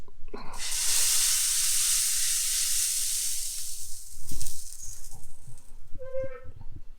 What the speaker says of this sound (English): time for another spritz